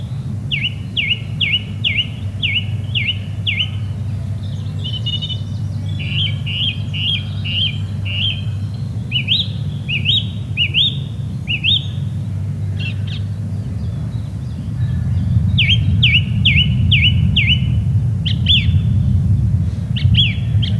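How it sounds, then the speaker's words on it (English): A song thrush sings in short repeated phrases, each note series delivered in quick bursts with pauses between, clear over a steady low background rumble. "But what I love about song thrush is the song."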